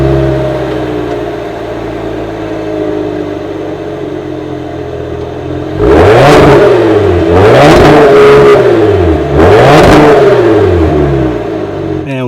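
A Cadillac CT5-V with a 3-liter twin-turbo V6 launches hard: a low idle rises into a loud, close roar that climbs through three surging gear pulls, each dipping briefly at the shift.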